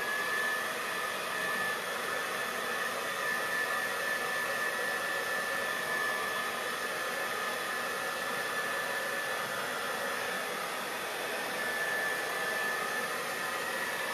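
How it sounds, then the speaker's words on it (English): A broken hair dryer blowing continuously at close range, a steady whooshing hiss with a high motor whine and no speech. "And this is my broken hair dryer."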